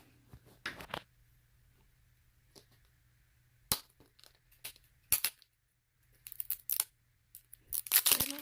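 Bursts of crinkling and tearing plastic come in irregular clusters as an L.O.L. doll's packaging is torn open, close to the listener, with quiet gaps between handfuls of rustling and no talking.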